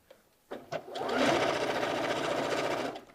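A sewing machine stitching a side seam pocket on a garment at a 5/8 seam allowance, starting with a few short taps before running in a steady, close, loud whirring stitch for about two seconds.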